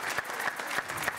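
An audience at a Téléthon charity talent show claps in a short, faint burst. Separate claps land at a steady rhythm and sound somewhat distant.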